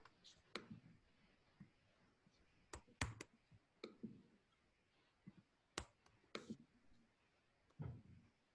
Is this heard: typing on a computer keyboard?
yes